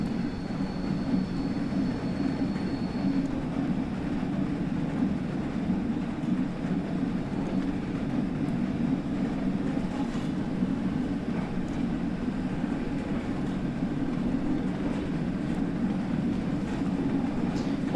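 LMS Jubilee steam locomotive in Train Sim World 2 pulling away after a climb, a steady mid-distance chuffing drone and rail rumble running continuously throughout.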